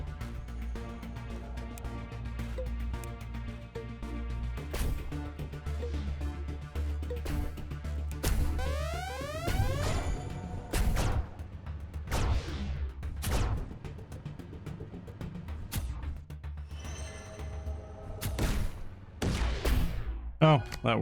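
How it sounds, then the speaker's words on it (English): Rhythmic bursts of explosions from a pulsing kinetic ball projectile in the physics-based tower defense game Tower Lab, repeating every few seconds over a busy game soundtrack with sweeping tones. "the kinetic ball is actually pulsing every so often"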